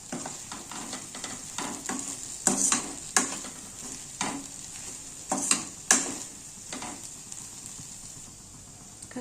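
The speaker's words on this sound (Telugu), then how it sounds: "వేసుకొని బాగా కలపాలి." Turmeric and chili powder being stirred into softened potato mixture in a pot, with repeated scraping strokes and a few sharper clanks of the spoon against the metal over a faint steady sizzle.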